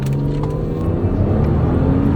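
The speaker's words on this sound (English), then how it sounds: "Oh, I love the sound of this car." An Audi S4 on Falken Azenis FK510 tyres accelerates toward 70 for a wet braking test, giving a steady engine hum and road roar heard from inside the car.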